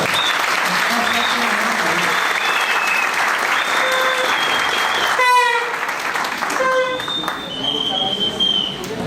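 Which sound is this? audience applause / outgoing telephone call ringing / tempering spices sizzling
audience applause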